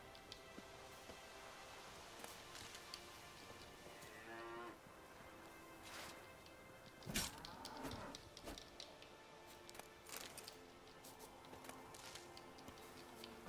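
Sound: cows mooing in the video game The Witcher 3

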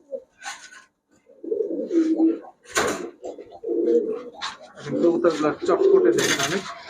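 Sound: Pakistani high-flyer Giribaj pigeons cooing

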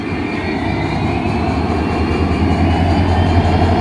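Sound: passenger train at railway station

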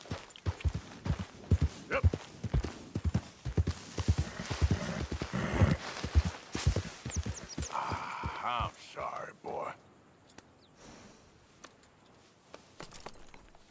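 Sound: horse walking, hooves clip-clopping, in Red Dead Redemption video game

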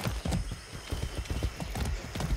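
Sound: horse hooves clip-clopping while riding in video game Far Cry 6

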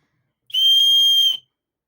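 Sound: emergency whistle blown

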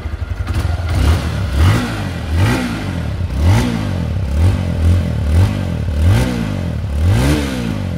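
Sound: 160cc motorcycle engine revving

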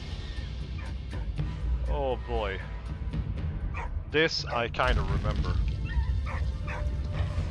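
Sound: dog barking and whimpering in the video game Valiant Hearts

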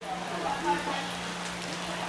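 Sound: light rain falling

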